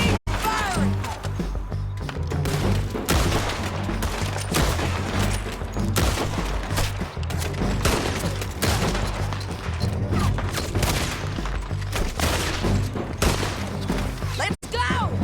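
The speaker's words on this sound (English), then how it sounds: "Keep firing!" Rapid gunfire crackles through a Red Dead Redemption 2 shootout, dense volleys of shots rolling on almost without pause, loud and close, with voices shouting over the barrage.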